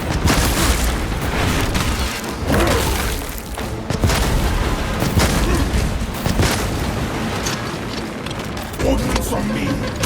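Heavy booming launcher blasts and explosions in the Warhammer 40,000 Space Marine 2 game, Reclamation mission against a Tyranid Prime, rumbling continuously in dense combat with a voice calling out over them.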